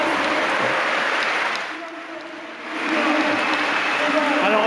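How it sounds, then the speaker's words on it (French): Applause from spectators at the Gant d'Or Basque pelota final in Biarritz, a continuous clapping wash that dips briefly in the middle before swelling back, with a voice talking over it. "On peut les applaudir."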